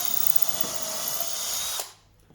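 A power drill bores a screw clearance hole in wood for a woodworking shooting board, a steady high whine for almost two seconds that cuts off abruptly into near silence.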